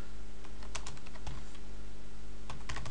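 Someone types on a computer keyboard, with a quick scattered series of close, crisp key clicks over a steady low electrical hum.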